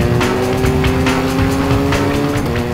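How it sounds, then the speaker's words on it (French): BMW R1200 GS motorcycle finishing a timed lap, a loud sustained engine drone with steady low tones and rapid rhythmic pulses, close and continuous without speech. "La R1200 GS boucle son tour chrono."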